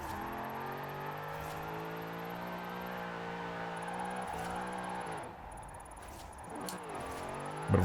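An Australian saloon car's engine in Forza Horizon 4, a steady, droning rev held high with shifting pitch and a brief dip before revving again, close and continuous with no talk.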